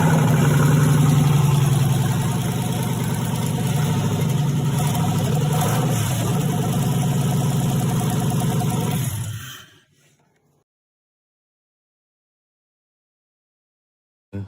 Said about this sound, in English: That's my car running.